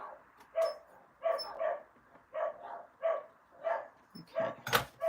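Several dogs bark indoors in a steady run of sharp, repeated barks at moderate distance, with a few higher yips mixed in.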